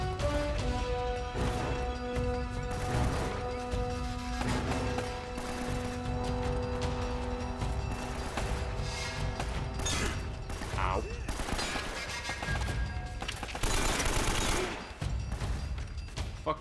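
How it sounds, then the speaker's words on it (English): Enemy gunfire fills a shootout in Uncharted: Drake's Fortune, with repeated bursts, crashes and impacts continuing loudly throughout alongside game music. "there is someone shooting at me"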